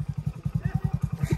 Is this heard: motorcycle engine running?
yes